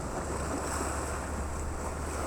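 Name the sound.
ocean waves breaking on Jeju coast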